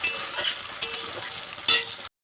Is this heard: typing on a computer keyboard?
no